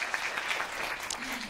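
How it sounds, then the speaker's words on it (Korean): Applause from the audience at a Korean lecture, a brief, steady wash of clapping with a voice speaking faintly over it near the end. "박수 한번 주세요."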